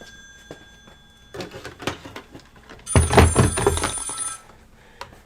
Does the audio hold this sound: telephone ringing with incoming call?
yes